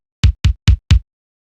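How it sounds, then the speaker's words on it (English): Four quick, evenly spaced kick drum hits from a Kawai R100 drum machine with processing, EQ and reverb turned off: dry, punchy low thumps with a sharp attack, followed by silence. "And that gives us our kick drum"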